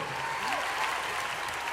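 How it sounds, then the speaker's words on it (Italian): A live concert crowd applauds a dance troupe with dense, continuous clapping that fills a large arena, steady and loud throughout. "Applausi a questo corpo di ballo fantastico."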